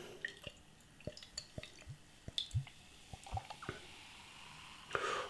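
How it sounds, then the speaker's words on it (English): Dark lager pours from a bottle into a glass, with soft drips, glugs and fizzing splashes that stay quiet and close throughout. "Let's get this beer out into a glass and see what we get."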